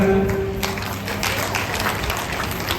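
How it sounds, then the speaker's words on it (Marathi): An audience at a live comedy game-show event claps with hands raised, a steady, dense wash of applause filling the space at moderate loudness throughout. "हात वर करून टाळ्या वाजवा."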